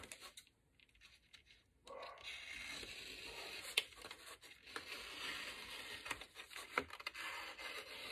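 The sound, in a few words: cutting wrapping paper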